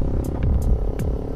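A Honda Sonic road-race motorcycle roars loudly during a test ride, with a dense, continuous low throbbing engine drone that stays steady and close throughout.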